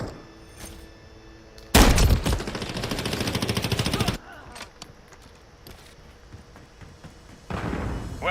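Video-game gunfire in an objective-capture battle: a loud, dense burst of rapid automatic fire lasting a couple of seconds, with more firing breaking in near the end. Radio-style callouts and background battle noise run throughout.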